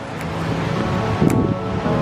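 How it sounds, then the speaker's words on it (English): Ocean surf washes steadily onto a beach, a broad continuous rush of waves with some wind noise on the microphone and no talking. "You hear the ocean?"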